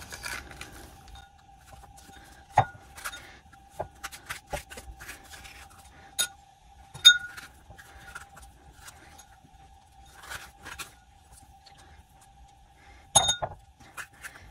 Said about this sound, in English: you just want to scrape out the seeds with a spoon